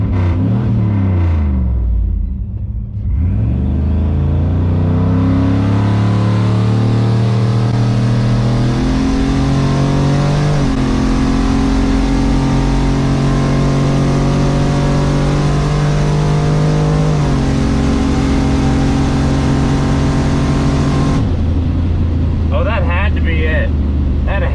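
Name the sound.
boosted Buick accelerating down drag strip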